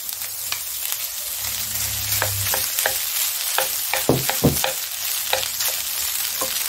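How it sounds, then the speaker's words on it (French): Rice stir-fried with shrimp in a hot pan, a steady close sizzle with repeated scraping stirs of the spatula throughout. "Maintenant, on va rajouter le riz."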